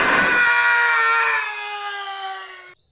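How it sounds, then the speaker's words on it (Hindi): A single sustained scream, loud and high, holding steady before trailing off abruptly. "किसी आदमी की चीखने की भी आवाज़ सुनाई दी"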